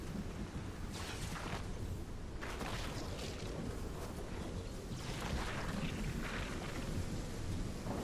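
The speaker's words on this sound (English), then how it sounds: "Nope, storm just started moving." Video game thunderstorm with steady rain and repeated rolling thunder booms, a continuous dense wash of storm noise with no voices.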